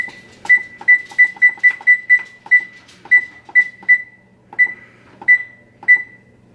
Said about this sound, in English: I'm gonna get the oven on too